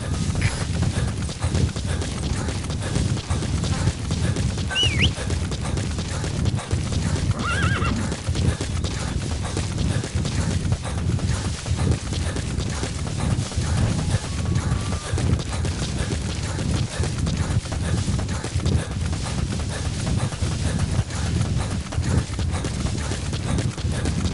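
Horse ridden in a PS4 wilderness game: steady rapid hoofbeats at a gallop run under a constant wash of ambient noise, with a brief whinny partway through.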